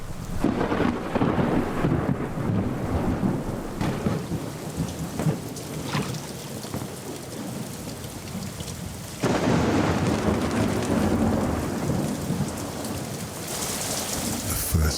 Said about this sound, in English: The rains are finally coming.